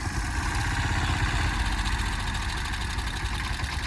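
A mini tractor engine runs steadily on a farm after the tractor was pulled free of muddy water, giving a continuous, even, mid-to-low rumble at moderate distance with no talking.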